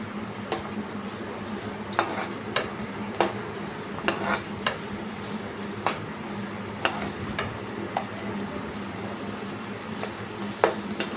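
Onions for pav bhaji fry softly in a pan while a spatula scrapes and knocks against the metal in irregular sharp taps over a low, continuous sizzle.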